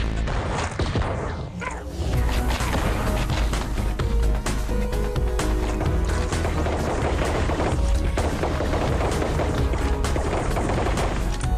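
Repeated shotgun blasts in a VR video game, loud booming shots mixed with dense gunfire, impacts and crashes that continue nearly nonstop over the whole stretch.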